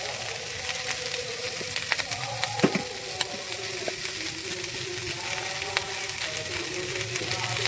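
Chopped vegetables fry in a hot pan for fish roe chorchori, a steady close sizzle with occasional clinks and scrapes of stirring.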